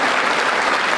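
Audience at a magic show breaks into loud, dense clapping, a brief burst of many hands together with no voices over it.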